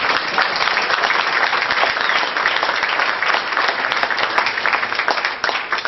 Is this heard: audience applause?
yes